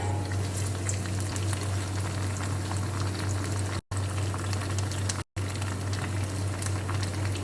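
Prawns cook in a covered pan on a stove, giving a steady, dense sizzle and bubbling hiss with a low constant hum beneath, broken by two brief dropouts, with no voices heard.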